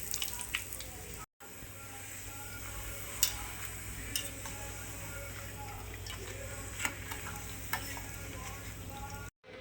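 Papads frying in hot oil, a quiet continuous sizzle with scattered light ticks and clicks, broken by two brief silent gaps.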